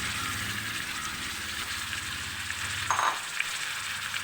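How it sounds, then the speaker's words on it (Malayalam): Crushed shallots go into a pan of garlic and ginger already frying golden in oil. A loud, dense sizzle rises in a continuous hiss, with a short clatter as the shallots drop in. "ഇനി നമുക്കിതിലേക്ക് ഉള്ളി ഇടിച്ച് വെച്ചത് ഇടാം."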